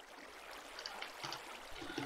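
Water being placed block by block in Minecraft, a soft continuous trickling and pouring sound with a few brighter splashes, steady and fairly faint throughout.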